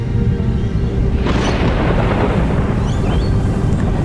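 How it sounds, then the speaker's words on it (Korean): Deep rolling thunder from a late spring storm in south-east Queensland, a loud continuous rumble that swells after the first second and stays heavy throughout. "늦은 봄이 되면 폭풍 구름이 몰려옵니다."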